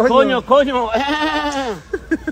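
A person's voice imitates goats with colds, giving a loud, wavering, nasal bleat that is drawn out, breaks off briefly, then resumes in a long quavering cry before trailing into short grunts.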